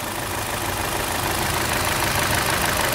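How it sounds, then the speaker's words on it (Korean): A Chevrolet Lacetti Premiere with a 1.6 Ecotec engine idles in a steady, even, broadband rumble that holds at a constant level throughout, with no voices. "엔진 소리도 상당히 정숙하고"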